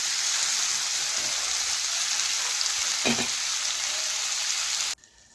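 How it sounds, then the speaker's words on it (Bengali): Potatoes and carrots with salt frying in a pan, a loud steady sizzle filling the clip with one brief stir scrape partway through, then cutting off abruptly near the end. "এখন ভালোভাবে নাড়াচাড়া করে লবণ আলু ও গাজরের সাথে মিশিয়ে নেব।"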